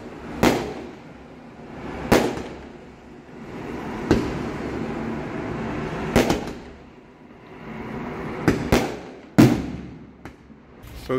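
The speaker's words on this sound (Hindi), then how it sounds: "बारात रोक के पटाखा फोड़ रहा है।" Firecrackers burst at a wedding procession in India, sharp loud cracks going off at irregular intervals about every two seconds, some in quick pairs, over a steady outdoor rumble with no talking.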